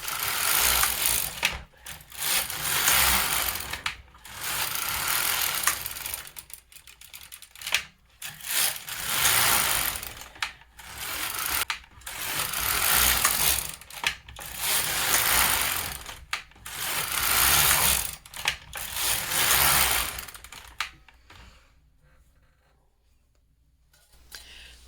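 A knitting machine carriage slides back and forth knitting rows of a baby's hat, each pass a loud mechanical clattering whir of about two seconds separated by short pauses, ending in quiet.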